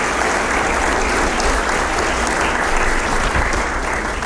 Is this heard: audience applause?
yes